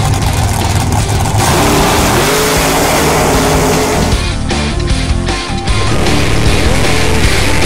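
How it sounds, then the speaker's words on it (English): Dragsters launch side by side down a drag strip at night, a loud, sustained engine roar filling the whole stretch and swelling again toward the end. "Fisher rattles the tires on the summit side, and Fisher will run 7-11"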